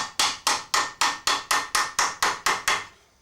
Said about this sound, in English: tap all the hammer marks out.